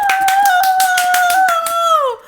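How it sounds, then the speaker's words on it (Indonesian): A handful of sharp, evenly spaced hand claps, about a dozen in quick rhythm, close and loud, over a sustained tonal hum that bends downward at the end. "Tepuk tangan lagi"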